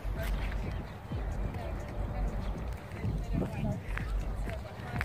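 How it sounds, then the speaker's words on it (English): Two stallions gallop past on an exercise trail near an old castle in Bahrain, their hooves drumming in quick irregular thuds close by, while someone talks excitedly over the passing hoofbeats. "I just seen two stallions come flying by me"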